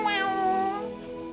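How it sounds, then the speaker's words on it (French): A domestic cat gives a single drawn-out meow, close and clear, with no other sounds. "T'entends un petit miaou"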